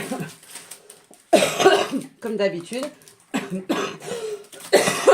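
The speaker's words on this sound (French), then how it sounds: "Cette vilaine toux, elle veut pas passer." A few close, raspy coughs break up a short stretch of someone speaking, loud and abrupt between the words.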